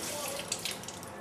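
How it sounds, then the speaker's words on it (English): Dialysis tubing bag rinsed under a running tap into a sink, a steady close rush of water with small splashing changes as the bag moves through the stream. "I'm just going to rinse off this bag really quickly"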